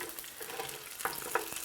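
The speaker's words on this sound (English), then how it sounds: "We have here some tofu frying." Steady crackling sizzle of food frying in hot oil, with a few sharper pops rising above the hiss.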